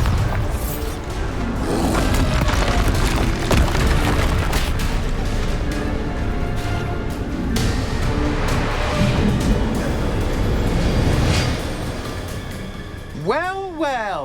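A Bombarda spell from Hogwarts Legacy booms and crashes in dense, loud bursts over several seconds amid game noise, ending with a brief whooshing sweep.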